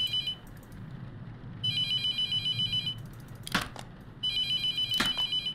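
Phones ringing in The Mortuary Assistant horror game, with repeated bursts of a shrill electronic ring that cut in and out over a low background hum and a couple of sharp clicks.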